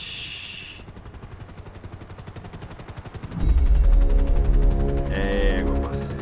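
Gunfire in the video game GTA V, rapid rattling bursts of shots followed by a louder, heavier burst with deep booming impacts, close and loud with no talking.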